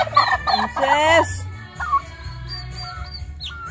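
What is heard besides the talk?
turkeys gobbling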